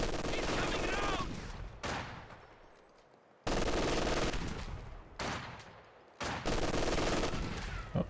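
Light machine gun fire in Company of Heroes 2, with sustained dense bursts of rapid shots and explosions that cut off sharply and resume, loud and close.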